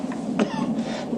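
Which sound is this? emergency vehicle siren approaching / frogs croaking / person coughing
person coughing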